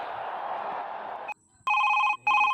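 A telephone rings in bursts after a stretch of background hiss, with two bright electronic ring tones separated by a short gap and a sudden start after near silence.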